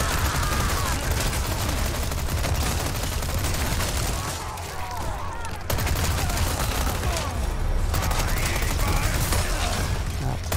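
Gunfire in the Resident Evil 4 Remake game: a dense, unbroken barrage of rapid shots and clattering mechanisms, loud throughout, with a brief dip in the middle and a voice talking over it.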